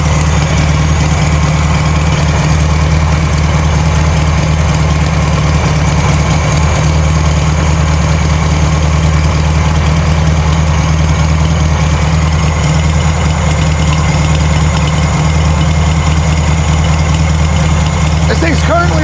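A 1960s VW-engined Ford Model T kit car idles with a steady, loud, low rumble that holds unchanged throughout, close to the engine.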